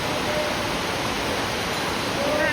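Heavy rain pours down on a flooded neighborhood where knee-deep water has risen, a steady, loud broadband roar filling the scene with faint tonal traces near the end.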